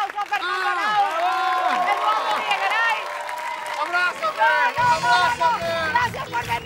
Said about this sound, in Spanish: ¡Un aplauso para el Colorado!